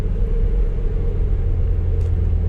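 Car with a manual transmission under full throttle, a loud, steady low engine rumble with dense throaty drone and no pauses, heard from inside.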